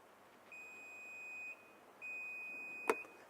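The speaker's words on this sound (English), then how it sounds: "hold the button until it beeps" A pair of sustained electronic beeps from a Nissan X-Trail, separated by a short pause, ring out quietly, then a sharp click.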